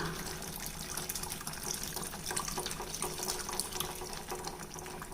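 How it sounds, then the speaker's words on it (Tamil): Tamarind water is poured into a pot of sambar on the stove, a steady, faint splashing trickle of liquid that runs on for several seconds with no talking. "இப்போது புளித்தண்ணி கொஞ்சமாக ஊற்றிக்கலாம்"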